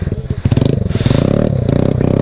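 Loud, close motorcycle engine on an off-road trail in Ooty, running rough with a damaged silencer joint, giving a dense, throbbing rattle that rises and holds steady for about two seconds with no talk.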